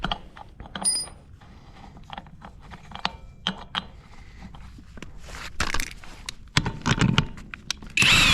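Irregular ratcheting and mechanical clatter from a power tool working on a stuck lug nut on a 21 trailer, with sharp clicks throughout and a louder burst of whirring near the end.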